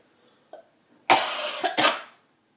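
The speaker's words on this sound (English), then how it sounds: "Don't you just love hearing my coughs?" A person coughs in two strong, rough bursts close to the microphone, the second following right after the first, preceded by a faint throat sound and then quiet.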